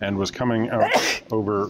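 A single sharp sneeze bursts out in the middle of a person's speech, close and loud, aboard a boat on a river cruise.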